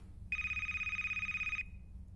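In the indie horror game A Place, Forbidden, an electronic phone ring trills steadily for over a second, then stops abruptly, heard quietly with no one talking.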